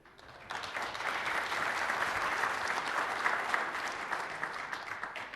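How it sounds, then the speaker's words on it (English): A room full of people breaks into sustained applause with some cheering, a dense, steady clatter of clapping that rises quickly and holds for several seconds. "Cheer for Ken."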